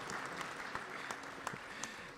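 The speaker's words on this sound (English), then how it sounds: "please clap for Leena" Guests at an engagement ceremony clap for the bride-to-be, a soft, steady patter of many hands from a modest crowd with a few sharper claps standing out, no voices over it.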